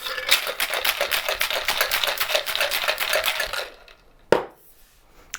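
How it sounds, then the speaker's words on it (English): Mai Tai cocktail shaken hard in a shaker, a dense rapid rattle of ice for several seconds that stops, followed by one sharp clack near the end. "Give this a really good shake."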